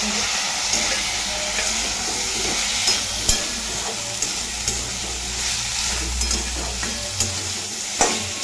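Brinjal and potato stirred in a hot pan for a potato-brinjal curry, a steady close sizzle with scraping stirs and occasional clinks over about eight seconds, no voices.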